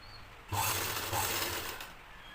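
A sewing machine with a double foot stitches thread piping onto a blouse neckline, a steady fast mechanical whir running for about a second and a half before stopping, close and fairly loud.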